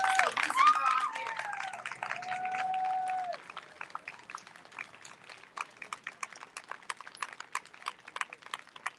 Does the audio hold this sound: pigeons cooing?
no